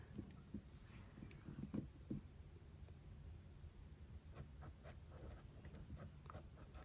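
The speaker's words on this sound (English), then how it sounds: "I'm just going to write in the ones that are typical." Pen writing entries in a monthly planner, close and very quiet, with short scratchy strokes and taps in irregular bursts over a faint hiss and no talk.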